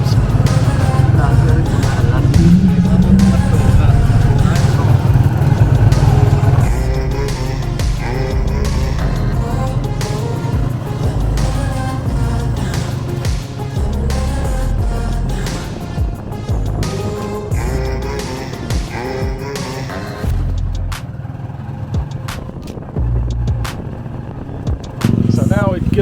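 Motorized tricycle ride through Maasin City, Philippines: steady engine drone and road rumble loud and close throughout, easing somewhat toward the end, with occasional voices.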